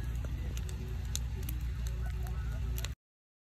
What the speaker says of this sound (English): I can show you a campfire.